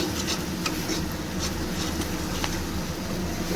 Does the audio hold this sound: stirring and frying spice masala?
yes